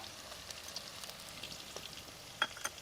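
Crushed ginger, garlic and slit green chillies frying in oil give a faint, close crackling sizzle, with scattered small pops and a couple of sharper spatters as they are stirred.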